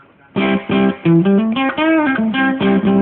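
An electric guitar plays a short melodic phrase of separate picked notes with a light, gritty distortion, loud and close, with no talking.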